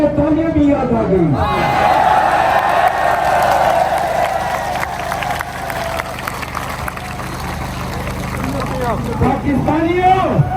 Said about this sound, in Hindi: शुक्र है कसूर के लोगों को तालियां भी याद आ गई।